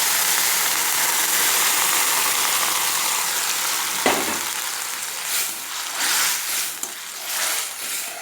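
Lentil dal poured into a hot pan of oil with fried boris, a steady frying hiss giving way after a sharp splash to softer, bubbling sizzles and a few stirring scrapes.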